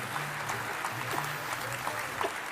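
Steady applause from an audience at a business gathering, continuous moderate clapping throughout with a low hum and faint voices underneath.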